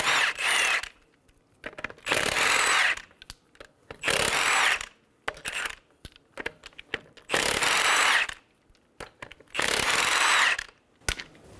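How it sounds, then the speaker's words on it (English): A power ratchet or impact tool spins lug nuts off a 2007-2011 Toyota Camry wheel with a 21mm socket, five loud whirring bursts of about a second each, separated by quiet gaps with small clinks and handling noises. "Using a 21mm socket, remove the lug nuts."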